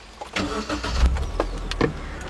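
A van engine cranks and catches, then runs on in a low, rough rumble, close and loud, with a few clicks and knocks around it.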